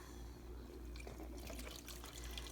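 Warm water poured from a cup into a seasoning mixture for shrimp empanadas, a quiet trickling pour that grows into a brief splashy stream near the end, no talking.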